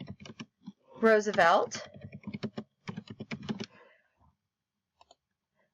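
Light clicks from a computer keyboard being typed on run under continuous talking, then a couple of faint isolated key taps once the speech stops.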